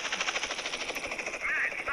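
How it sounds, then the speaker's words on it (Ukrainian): Rapid, loud bursts of tank cannon fire in GTA San Andreas follow one another in a steady rhythm. A louder blast comes near the end. "зі скількох пострілів можна знищити танк в GTA San Andreas, стріляючи з танка"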